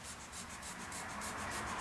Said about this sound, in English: now we're going to cut this out using a Stanley knife